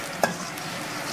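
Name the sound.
chili and coriander powder stirred in oil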